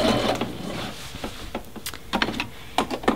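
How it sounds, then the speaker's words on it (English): Domestic sewing machine stitching a seam along the edge of a dress, heard up close as irregular mechanical clatters and short bursts of rapid stitching with brief pauses between runs. "So I'm just gonna sew right along the edge here."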